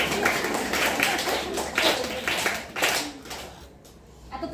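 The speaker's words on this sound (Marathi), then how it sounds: "VIP याच्यासाठी टाळ्या वाजवा" An audience claps for a VIP at a life-skills workshop, a short burst of uneven hand claps that swells and then fades out, fairly close, with a little talk underneath.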